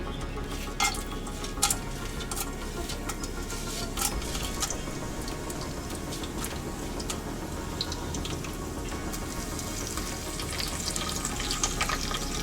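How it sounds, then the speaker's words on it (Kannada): Whole spices fry in hot oil in a pan for bagara rice, a steady close sizzle with scattered clinks and scrapes of a utensil against the pan. "ಎಲ್ಲ ಫ್ರೈ ಆಗ್ತಾ ಇದೆ ಇವಾಗ"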